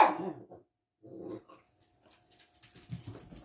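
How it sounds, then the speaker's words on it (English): An older dog growls at a younger dog indoors, with a low rumbling growl up close, a pause, another snarl, then scuffling and quieter growls toward the end. "That's Zoe, my older dog, letting my younger dog know that he needs to get away from her"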